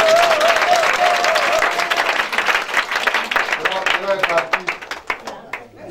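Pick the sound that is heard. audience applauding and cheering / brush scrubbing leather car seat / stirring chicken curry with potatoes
audience applauding and cheering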